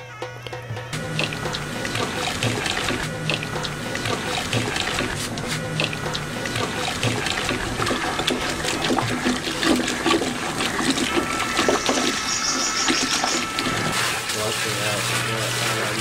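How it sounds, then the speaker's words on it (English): Textile rinsed in water by hand at a Bandhani tie-dye workshop in Kutch ahead of the dye bath, with steady sloshing and splashing throughout, a low constant hum underneath and voices talking at times. "Textile is rinsed once again in water to ready it for the dye bath."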